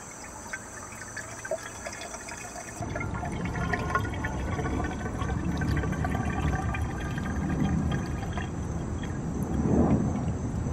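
Brake fluid poured from a bottle into a car's gas tank: a continuous, close liquid gurgle and trickle that swells slightly toward the end, with no talking.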